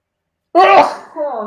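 A single abrupt sneeze bursts out close up after silence, followed by a brief vocal trailing sound.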